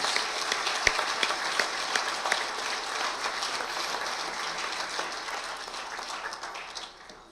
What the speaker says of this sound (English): A big round of applause for these fine individuals.